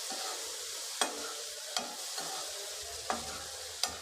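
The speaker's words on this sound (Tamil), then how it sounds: "இப்போ நம்ம வேக வச்ச பாகக்காய் சேர்த்துடலாம் சேர்த்துட்டு நல்லா கலந்து விடுங்க" Boiled bitter gourd frying in oil in a pan under a soft continuous sizzle, with several sharp spoon scrapes and taps from stirring at irregular intervals.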